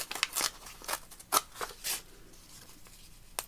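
Paper is torn by hand in a few short, close, crisp ripping bursts separated by quiet pauses.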